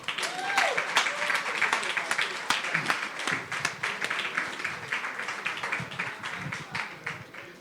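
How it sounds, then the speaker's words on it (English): An audience at a jazz gala breaks into lively applause, with dense clapping and scattered sharp claps and whoops. It swells, then slowly thins out, with voices mixed in. "give a big round of applause to all the folks tonight"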